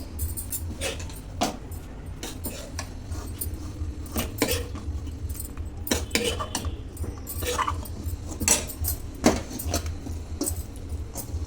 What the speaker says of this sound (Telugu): రెడీ చేసుకున్న పోపును అన్నంలో వేసుకొని మంచిగా కలుపుకుందాము